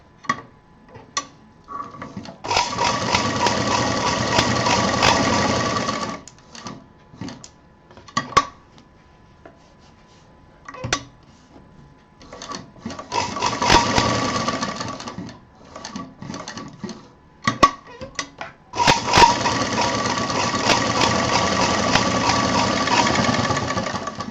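Electric sewing machine stitching around the outside edge of a handmade fabric handbag, running in three sustained bursts of rapid stitching separated by pauses filled with brief handling clicks and knocks.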